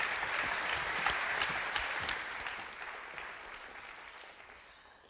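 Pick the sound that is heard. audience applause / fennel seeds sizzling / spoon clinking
audience applause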